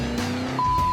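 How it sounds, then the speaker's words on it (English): A car in a chase roars loudly with engine noise, and a sharp tire squeal cuts in for the last half second. "So the car chase is on"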